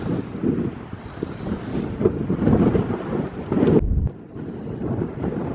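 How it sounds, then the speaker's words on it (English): Strong wind buffets the microphone on the Newport, Rhode Island waterfront, a loud, continuous roar that surges and briefly drops before rising again. "we had to put on our thick winter coats because of the wind"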